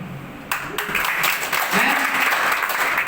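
Audience applause at a company CEO's speech by a health marketing firm, a dense sustained patter of clapping that swells after a brief quieter start and continues steadily, with a faint voice underneath.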